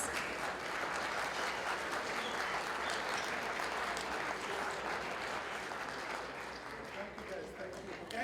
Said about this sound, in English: let's give a big round of applause for the achievement of the Arab American Association of Engineers and Architects